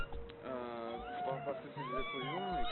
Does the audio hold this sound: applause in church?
no